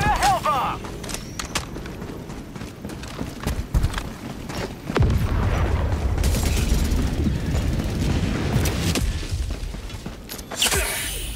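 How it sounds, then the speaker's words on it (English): A Hellbomb detonates in Helldivers 2 during a Terminid bug-control mission, a deep rumbling boom that swells to a sustained roar amid scattered gunfire and whooshes. "Calling in a hell bomb!"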